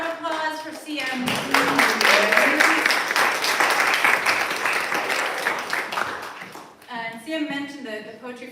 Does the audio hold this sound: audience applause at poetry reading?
yes